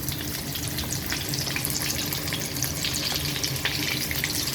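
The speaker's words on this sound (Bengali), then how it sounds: "বড় কড়াইয়ের ভিতরে এরকম তেল নিয়ে অর্ধেক রান এভাবে দিয়ে ভাজা হচ্ছে" Steady, crackling sizzle of chicken leg pieces frying in hot oil in a large wok, moderately loud and continuous with bright popping spatters.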